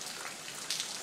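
Steady rain falls outdoors around a driveway, a dense even patter of drops with a couple of brief louder splashes near the end, no voices.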